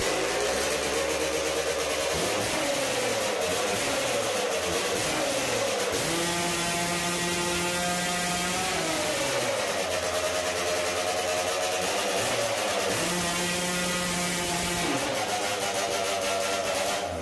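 A Hot Saw racing chainsaw engine revving to warm up, loud and close with a harsh buzzing roar that rises and falls through several revs over a continuous idle.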